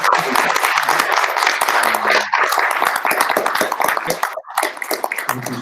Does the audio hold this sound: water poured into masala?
no